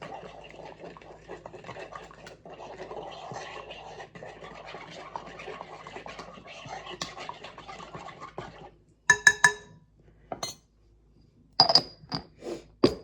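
Sandwich bread ingredients stirred in a bowl with a utensil, a steady scraping swish for several seconds, then a few sharp clinks and taps of the utensil against the bowl.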